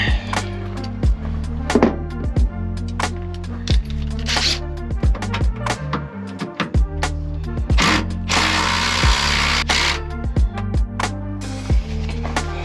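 Half-inch ratchet working a stuck bolt loose on a Toyota Tacoma after penetrating oil: rapid, close clicking of the pawl in bursts, mixed with clunks, scraping and metal knocks, with no talk.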